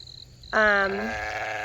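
A single clear sheep bleat on a farm, loud and nasal with a wavering tone, rising out of quiet outdoor background, preceded by a faint high chirp.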